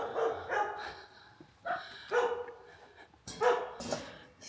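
A neighbor's dog in a backyard barks in a morning greeting, sending out several loud, fairly close woofs in uneven bursts with short pauses between them and no talking.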